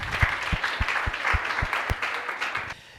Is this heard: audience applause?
yes